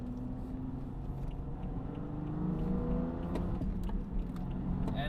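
BMW 435i xDrive driving on the road, a steady engine hum and road rumble that swells slightly midway as the car pulls harder, continuous and close from inside the cabin.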